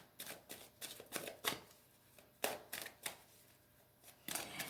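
Oracle cards are shuffled by hand in quick, soft riffling bursts, repeated several times with short pauses between, close and quiet.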